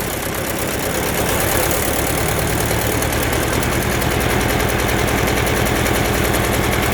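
An Ursus tractor engine runs loud and close with a rapid, rough knocking rhythm, the throttle opened so the rattling pulse continues steadily throughout.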